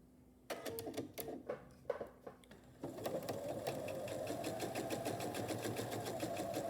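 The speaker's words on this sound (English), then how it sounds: "I'll start sewing as close to this corner as I can" A home sewing machine runs steadily, stitching a border onto a fabric table runner, with a few short start-and-stop bursts first before settling into a continuous close, even hum.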